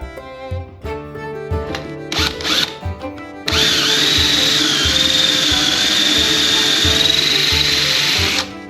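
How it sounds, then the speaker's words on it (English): An electric drill bores holes into wooden boards for 3/8-inch dowel pegs while building a toybox; short bursts of whirring give way to a loud, steady, close drilling whine that holds for several seconds. "I'll drill holes in both boards"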